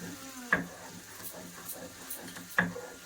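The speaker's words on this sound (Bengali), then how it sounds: "ফুলকপিগুলো লাল লাল করে ভেজে নিচ্ছি" Cauliflower pieces fry in a pan with a faint sizzle, broken by two sharp scraping clatters of stirring.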